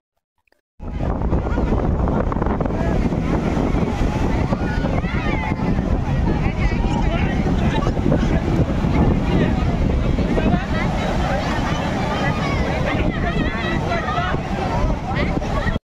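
Wind blows steadily and loudly into the microphone on a crowded Swargadwar sea beach in Puri on a cloudy, drizzly day during Ulta Rath, with surf and crowd noise mixed into a continuous roar.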